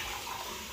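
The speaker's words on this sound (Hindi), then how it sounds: "अब हम डालेंगे पानी।" Water pours steadily into a cooking pot with meat at home, a continuous close splashing gush with no pause.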